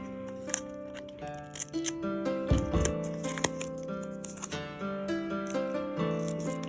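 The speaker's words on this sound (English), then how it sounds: "We're just going to start ripping." Washi tape is torn by hand, giving short crisp ripping and crackling sounds close up over music playing in the background.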